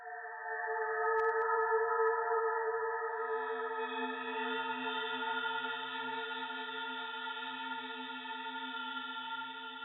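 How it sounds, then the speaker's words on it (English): Vector synthesis in Renoise morphs between several sound sources, giving a steady drone of sustained synth tones. A higher shimmering layer joins a few seconds in, and the voices interfere with a slight ghostly wavering. "as it's morphing between the different sound sources, we're also getting amplitude modulation interference between the different voices"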